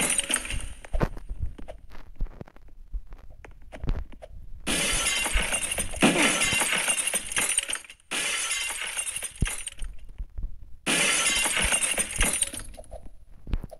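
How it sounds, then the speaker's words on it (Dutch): Glass panels shatter repeatedly in a Roblox glass bridge obby game, loud sustained crashing bursts of breaking glass separated by short quieter gaps with footstep-like taps. "Je hoort ook gewoon de hele tijd glas."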